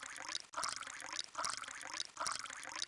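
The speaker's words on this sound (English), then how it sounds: "Fill each cup 1/2 way with water. To do this, drag the pitcher of water to the cups." Water pours from a pitcher into cups in a video game, three repeated splashy pouring bursts in a quick even rhythm, close and clear with no voices.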